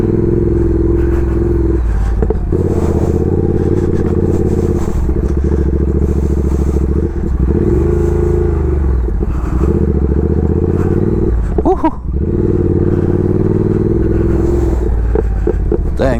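A Triumph Speed Twin motorcycle rides loose across grass off-road, its engine loud and close, droning and surging through revs with throttle changes, plus clattering and scraping as the bike slides around.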